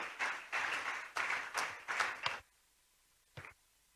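Audience applause at a ceremony opening a police hospital, several quick bursts of clapping from a crowd, fairly faint, stopping abruptly with one brief clap afterward.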